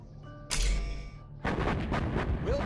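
Gatling cannon fire in the real-time strategy game Command & Conquer Generals Zero Hour, a sustained loud burst of rapid shots that kicks in abruptly, drops back, then resumes as a dense, continuous roar of gunfire.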